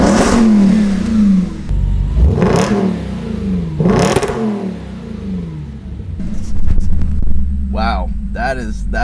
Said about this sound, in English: blown away with how that exhaust sounds